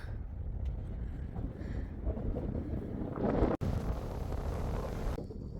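Wind sweeping over coastal sand dunes beside the sea, buffeting the microphone in a steady, loud roar that swells into a stronger gust midway and drops out for an instant.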